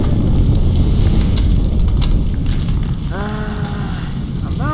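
A bomb blows up in Halo 2 as a loud, sustained roaring blast with heavy low rumble, easing into fiery crackle while sharp chirping weapon or effect tones rise over the tail.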